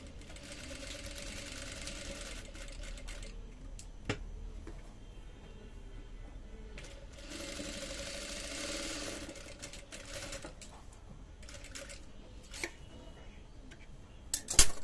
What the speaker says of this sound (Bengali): ওকে এবার আমি বাকিটাও কাজ সেলাই করে নিচ্ছি